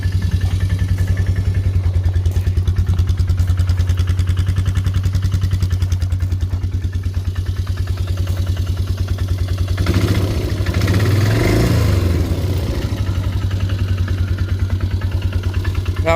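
A small ATV engine idles steadily and close by after a cold start, with a low, throbbing rumble, briefly roughening and rising midway before settling back to an even idle.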